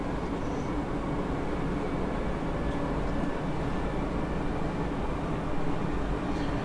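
A Class 313 electric train runs in the Train Sim 2020 video game on the Marsdonshire South Coast route. It makes a steady, low, broadband rolling rumble that continues unbroken throughout, with no voices.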